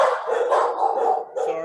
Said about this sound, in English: Sorry, my dogs are voting.